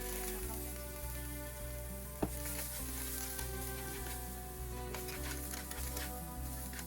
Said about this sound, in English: Turn the heat down to low and stir in your garlic.